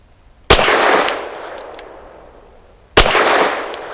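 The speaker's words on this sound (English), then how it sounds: "Starting off with our lightest is the 90 grain 1776 lead-free sporting." Walther PDP Match steel-frame pistol firing 90 grain lead-free ammunition outdoors, two sharp, loud shots about two and a half seconds apart, each followed by a long echoing decay.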